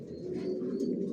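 A black checker racing pigeon coos close by in its loft, one short, low, throaty burr lasting about a second, heard alone.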